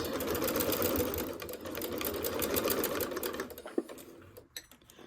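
A sewing machine runs steadily and close, back stitching over elastic on fabric, its rapid needle clatter continuous before slowing and stopping into a few handling clicks.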